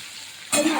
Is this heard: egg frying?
yes